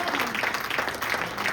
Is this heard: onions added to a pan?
no